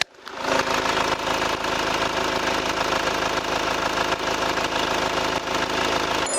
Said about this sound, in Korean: 딱 디젤 차 엔진음만 들려주는 굉장히 좋은 엔진음을 들려주고 있는 차량이었습니다